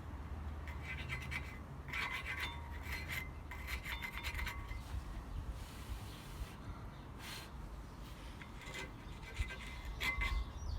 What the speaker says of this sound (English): Now scrape away the old brake dust.